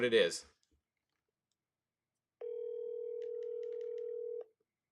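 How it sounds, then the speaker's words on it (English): A satellite phone on speaker rings out as one steady electronic tone lasting about two seconds, preceded by a brief burst of talk and then silence. "Shannon Welch has a sat phone, but we're going to call her right now"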